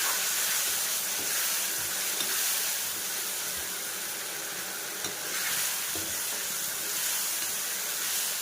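Whole spices for a chicken curry sizzling in a pan, a steady close hiss with occasional soft scrapes from stirring, even and without voices.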